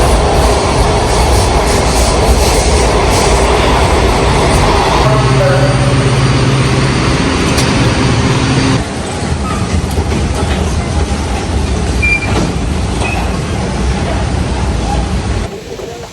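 A metro train carries riders into DC, its wheels and motors making a loud continuous rumble with a steady hum, easing into a quieter interior roar, while people talk faintly in the car.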